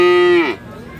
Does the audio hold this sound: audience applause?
no